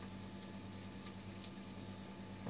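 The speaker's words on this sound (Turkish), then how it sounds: "Biberim, soğanım da kavruluyor orada canlar" Peppers and onions sautéing in a pan give off a steady, even sizzle that runs unbroken from start to finish, with no one talking.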